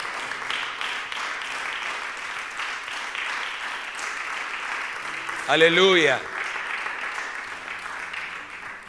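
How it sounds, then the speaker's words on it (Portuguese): Church congregation applauding during a Portuguese-language sermon, a steady wash of clapping under a preacher's voice, with a brief louder vocal swell partway through. "Alguém dê um aplauso à glória do Senhor."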